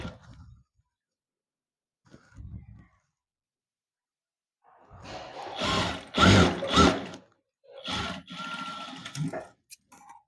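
A sewing machine stitching a readymade dress being altered, with short mechanical clicks followed by bursts of rapid stitching in uneven spurts, close and fairly quiet.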